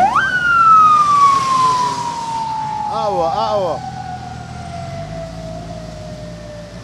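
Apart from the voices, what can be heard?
ambulance siren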